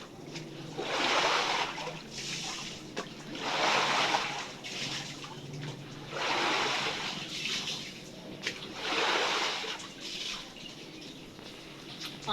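A broom sweeps accumulated rainwater out of a flooded space, giving regular swishing, splashing strokes roughly every two seconds at moderate distance, with faint chirping in the background.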